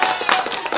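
Dense applause from many hands forms a continuous bright patter that stays fairly loud for the whole moment, with no voices over it.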